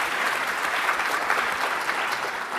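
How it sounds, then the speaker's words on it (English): An audience claps steadily at a workplace talk, a dense even patter of many hands sustained throughout without any voices. "Others agree by show of applause?"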